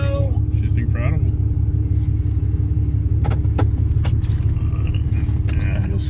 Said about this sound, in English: this is already just record traffic on this road